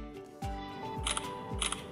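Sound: Samsung Galaxy phone camera shutter sound

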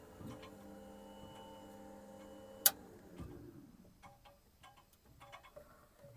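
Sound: BMP UTD-20 diesel engine fuel booster pump running

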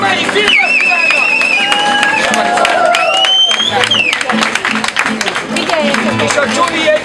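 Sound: applause for the 8th Romani Film Festival

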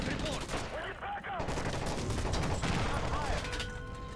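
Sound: gunfire during plane hijacking in Call of Duty: Modern Warfare 3 video game

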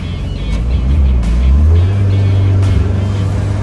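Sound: sports car engine with straight-cut gears

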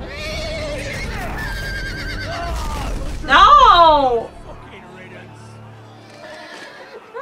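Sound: horses neighing in a Game of Thrones video game

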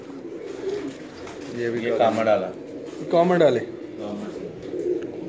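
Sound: pigeons of a breeder

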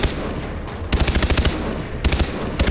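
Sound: gunfire from shooting at animals in Far Cry 3 video game

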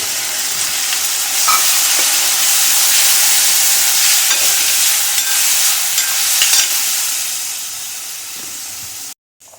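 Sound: lentils being sautéed in a pan

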